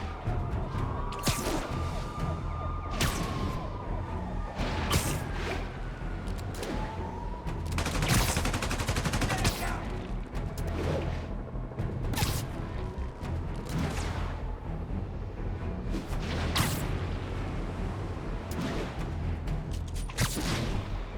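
Sniper gunfire in Marvel's Spider-Man Remastered rings out in sharp, repeated cracks amid a busy Times Square firefight, scattered shots over a rumbling battle bed with a siren-like wail early on.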